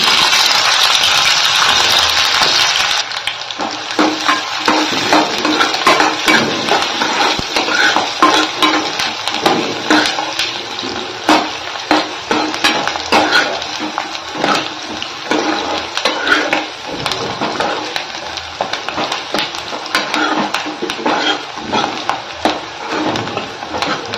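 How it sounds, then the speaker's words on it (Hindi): Cumin, onion and green chilli crackle and sizzle in hot oil, a dense continuous frying hiss with scattered stirring clinks and scrapes of a utensil against the pan. "तेल हमारा अच्छे से गर्म हो गया, तब इसमें डाल देंगे हम थोड़ा सा जीरा। और अब इसमें डाल देंगे प्याज और हरी मिर्च।"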